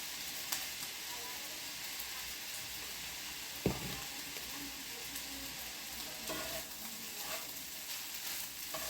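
Fried rice seasoned with soy sauce and white pepper is stirred in a hot pan, a soft continuous sizzle with one sharp knock of the spatula and occasional scraping, no voices.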